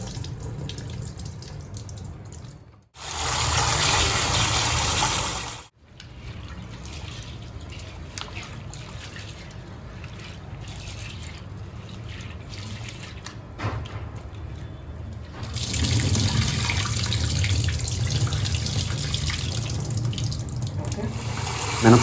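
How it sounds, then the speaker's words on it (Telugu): Tap water runs into a sink while soaked urad dal is rinsed in a bowl, with steady splashing, a brief pause, then a louder, fuller gush toward the end, close by. "కడుక్కున్న తర్వాత నీళ్ళన్నీ వంచేసుకొని మళ్ళీ ఇంకొకసారి కడుక్కోండి"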